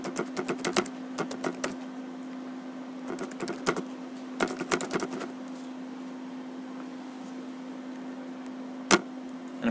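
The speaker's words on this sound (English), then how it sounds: "and keep typing" Bursts of quick, clicky keystrokes on a computer keyboard come in short irregular runs, separated by pauses over a steady low electrical hum, with a single louder click near the end.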